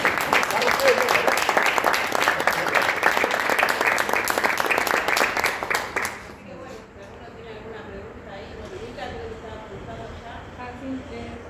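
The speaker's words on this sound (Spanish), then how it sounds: "Vamos a dar un aplauso al Señor." A church congregation gives a strong round of applause for about six seconds, dense and steady, before it fades away into quiet room murmur and talk.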